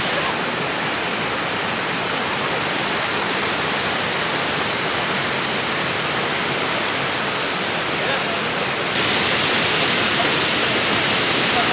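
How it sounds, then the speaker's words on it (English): Rushing water of the main waterfall on the Ingleton Waterfalls Trail in North Yorkshire, a loud, dense, constant roar of falling water that swells slightly louder near the end. "we've hit the main waterfall"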